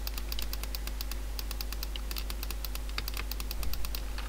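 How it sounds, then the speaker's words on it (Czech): Rapid repeated mouse clicks while playing Minecraft, a steady stream of sharp close ticks over a low electrical hum, with no talking. "No a vlastně takhle tady musíte furt klikat."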